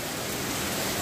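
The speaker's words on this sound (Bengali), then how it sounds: "তো এই দেখুন আষাঢ় মাসে হঠাৎ বৃষ্টি।" Sudden monsoon rain pouring down during the month of Ashar, a dense, steady hiss of falling water with no voices, heard only for a moment.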